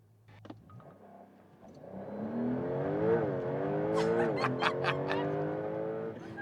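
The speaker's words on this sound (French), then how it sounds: "Encore un launch control, peut-être. Alors, on se la refait une dernière fois." A 2026 Porsche 911 Turbo S on a launch-control start, its engine note climbing steadily in pitch and loudness over several seconds, with quick upshifts breaking the rising whine near the end.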